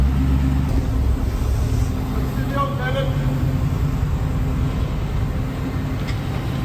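A Volvo fitted with a 3UZ V8 engine runs on a dyno, making a loud, steady low rumble and drone that holds throughout with little change.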